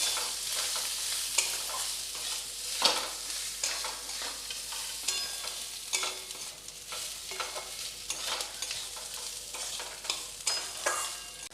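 Gobindobhog rice fried in a pan with a bay leaf sizzles steadily while a spoon scrapes and stirs it in repeated rhythmic strokes, close and clear, with no talking.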